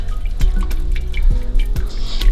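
Cooked chicken gizzards are tipped into a sieve, giving close, loud splashes and dripping water in a few bursts, each surge trailing off into trickles.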